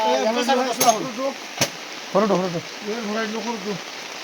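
Steady rain hisses in the background near a vehicle stuck in the wet, while someone talks loudly over it, with one sharp click midway.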